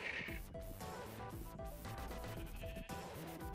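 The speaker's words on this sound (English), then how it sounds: "And so many sheep are following me as well." Sheep in a video game bleat repeatedly in quick, overlapping calls at a fairly soft level, with no talking.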